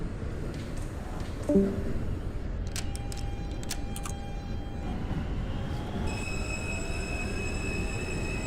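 An R160 subway train on an R local run in the OpenBVE train simulator game rolls along with a steady low rumble, then a short squeal, clicks and a rising electric whine as it moves on.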